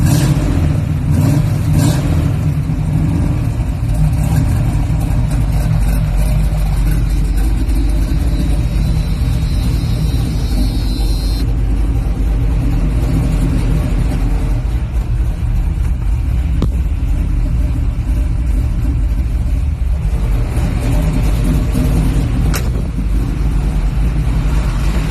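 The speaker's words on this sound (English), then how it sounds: "I'll start it up. You guys can hear how it sounds. Rev it up a couple times." A 1978 Chevy Malibu with a 350 V8 and no choke runs loud and steady at close range for about 25 seconds, a deep continuous engine rumble with some throttle swells, no talking.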